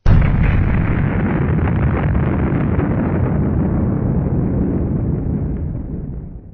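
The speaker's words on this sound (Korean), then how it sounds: "폭탄 투하 완료" A loud bomb explosion sound effect bursts at once, then its deep rumbling roar slowly fades out over several seconds.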